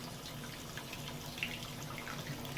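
Tap water runs steadily into a tub or sink while a dog is bathed, a continuous close splashing rush with small scattered splashes and no voices.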